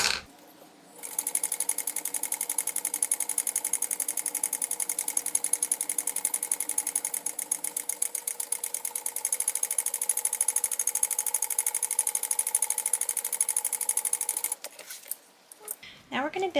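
Sewing machine basting a liner to the exterior of a cargo belt bag, a rapid steady mechanical whirring and needle clatter that starts after a brief pause, runs close and continuous, then stops near the end.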